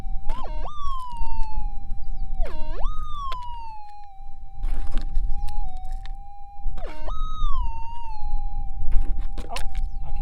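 Metal detector target signal while gold prospecting near Tibooburra, a steady electronic tone that warbles and dips in pitch with repeated swings, over scraping and rustling ground noise.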